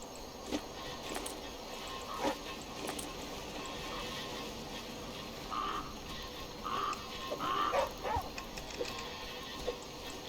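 A dog barks a few times in short, faint bursts at a distance in the survival video game The Flame in the Flood, over a quiet ambient background.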